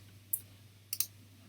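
Three crisp computer mouse clicks over a faint steady hum: one single click, then a quick double click about half a second later, close and clear with no talking.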